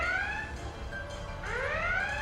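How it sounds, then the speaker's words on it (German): Red alert alarm sounding on a starship bridge in the video game Star Trek: Resurgence, a loud rising electronic whoop that sweeps upward twice, close and alone. "Kaum an Bord, schon roter Alarm."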